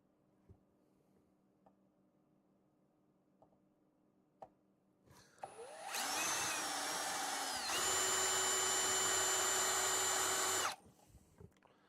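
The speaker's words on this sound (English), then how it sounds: "So I'll try to drill into here and let all the shavings hopefully" A power drill bores into a box, spinning up with a loud whine and running steadily for about five seconds before stopping, close by with no talking.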